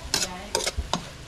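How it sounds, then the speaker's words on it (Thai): Basil and mushrooms stir-fried in a pot: three short scraping, sizzling strokes of a utensil, close and fairly loud, with no talking. "นี่ผัดกะเพราก็ใส่เห็ดลงไป"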